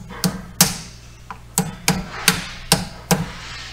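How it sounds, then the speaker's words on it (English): Seven sharp metallic hammer strikes driving a brake caliper clip into place on a Hyundai Elantra's rear brakes, at an uneven pace, close and loud, each a hard ringing tap with quiet gaps between. "just put your clip in there, right? And just hammer it there."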